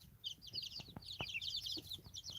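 Young chickens settling down to sleep cheep and chirp in a dense, overlapping chorus close by, with a few soft thumps of movement underneath and no talk.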